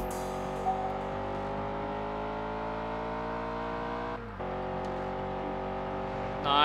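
A Lamborghini engine in Test Drive Unlimited holds a steady droning tone, with a brief dip and shift around a gear change before climbing again, moderately quiet with no talk.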